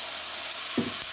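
Tempering of chana dal, onion and asafoetida sizzling in hot oil for pumpkin chutney, a steady close hiss of frying with a short stirring clatter near the end.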